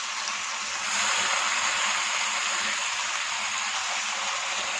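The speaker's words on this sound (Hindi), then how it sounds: "3 मिनट के बाद थोड़ा थोड़ा करके 1 कप पानी डालेंगे।" Water trickles and hisses into chicken and garlic frying in a pan for a pulao, a steady bright sizzle that swells slightly after the first second and holds evenly throughout, with no voices.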